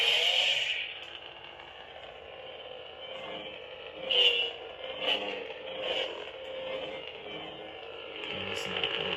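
Lightsaber sound font by Lord Blako, a steady electric hum with a bright buzzing sheen, broken by several sharp swing swells and clashes midway before settling back into the drone, with no talking over it.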